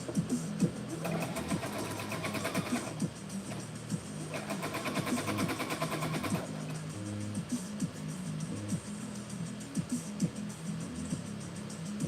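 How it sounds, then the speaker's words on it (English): A sewing machine stitches a garment neckline in bursts, its rapid mechanical whirring starting and stopping between quieter pauses, fairly close by. "We are sewing at the neckline."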